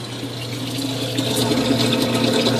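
Water pours into containers at a water dispenser at a Publix store, a steady loud rushing stream that swells slightly as it fills, heard alone without talk.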